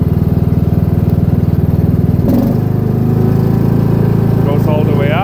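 A Cub Cadet XT1 lawn tractor engine runs loud and close with a steady buzzing drone, its pitch jumping higher partway through as the throttle opens up, then holding at the faster speed.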